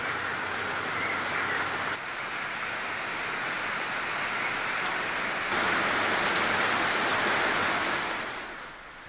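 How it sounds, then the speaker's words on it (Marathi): Heavy rain falls with strong winds in Amravati district, a dense, steady hiss of downpour that swells slightly in the middle of the stretch, with no voices. "अमरावती शहरासह जिल्ह्यातही जोरदार पाऊस सुरू आहे। या वादळी वाऱ्यासह पडलेल्या पावसामुळे"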